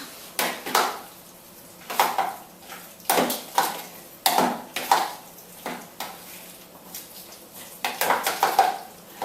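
Guacamole is stirred by hand in a blender jug with the blade taken out, a series of irregular clunks and scrapes against the jug in short bursts with brief pauses, close and without talk.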